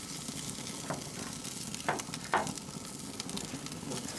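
A beef rib searing on a Weber grill gives a steady, quiet sizzle with a few brief louder crackles close by. There is no talking.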